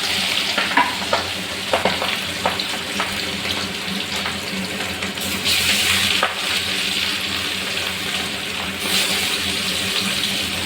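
Fish fries in hot mustard oil in a kadai wok at home, giving a continuous loud sizzle. Occasional scraping stirs and spatters punctuate it.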